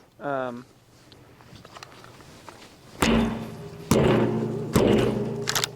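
A Mossberg 590 shotgun is slammed against the ground, producing three heavy, loud thuds spaced about a second apart after a quieter stretch with some faint handling noise.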